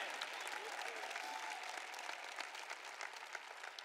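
Steady, sustained applause from a church audience at a sermon fills the whole stretch, dense and even, heard at some distance with no voices on top.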